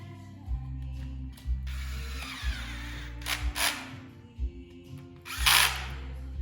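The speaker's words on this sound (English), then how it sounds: "You put your new screws in for your stator." Power drill driving new pre-Loctited stator screws into a 2003 Harley bagger motor, several short bursts of whirring with ratcheting clicks over a steady low engine-bay hum, close and fairly loud.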